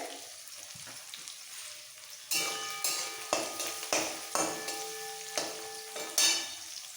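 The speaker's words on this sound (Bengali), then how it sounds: "এবার এই পেঁয়াজটা একদম ব্রাউন করে ভেজে নেবো অনেকটা বেরেস্তার মতো করে" Sliced onions fry with salt in hot oil until brown, a soft sizzle broken by several louder bursts of stirring and scraping in the pan, close by and with no voices.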